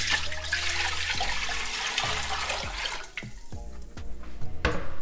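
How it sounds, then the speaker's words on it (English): Steady rush of water pouring from a tap into a saucepan for boiling pasta, broad and continuous, with a few clunks and knocks toward the end. "I'm going to put some water in the saucepan"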